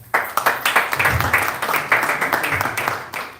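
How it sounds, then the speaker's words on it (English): Audience applause at a youth community event in a café, a dense burst of clapping that starts abruptly and holds steady for a few seconds with a faint voice mixed in. "Let's give him a round of applause."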